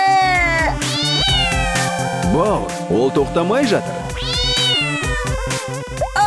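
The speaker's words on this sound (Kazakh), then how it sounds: "ішінде расында мысық бар секілді" A cat meows repeatedly and insistently, loud rising and falling cries that recur throughout, alternating with someone speaking.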